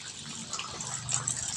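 Tap water gushing steadily as plants are watered around a house in the afternoon, a continuous splashing, fairly close flow with no talk over it.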